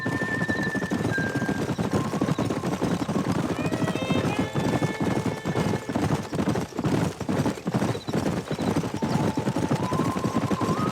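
Horses in a Red Dead Redemption game scene, rhythmic galloping hoofbeats with repeated neighs and whinnies rising over a busy mix of ambient game sound, fairly close and continuous throughout.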